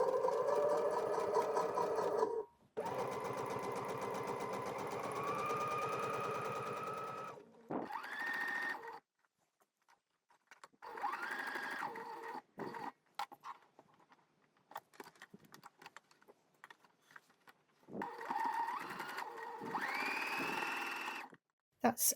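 A sewing machine stitching a narrow hem on slippery light fabric, running in close bursts of rapid whirring stitches separated by pauses, some runs rising in pitch as it speeds up.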